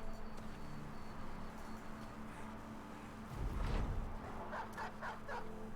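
Dog barking in the video game Battle Brothers Legends, a couple of short barks and yips over a low rumbling game soundscape, moderately quiet with no voices.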